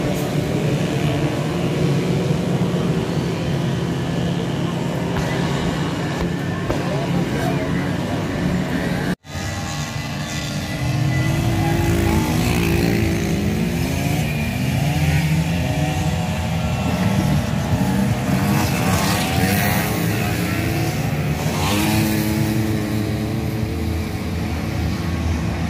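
A loud, sustained engine roar with shifting pitch sweeps from a racing motorcycle revving hard at an endurance race, continuous throughout with a brief dropout partway.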